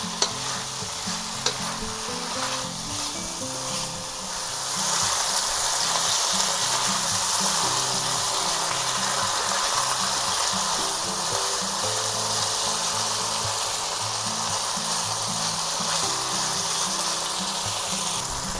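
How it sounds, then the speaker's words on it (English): Green onion bottoms sizzle loudly in a stir-fry pan with chicken and bok choy, a steady close frying hiss that swells after a few seconds and holds without a break, with stirring noises throughout and no voices. "dump the bottoms of our green onions in there"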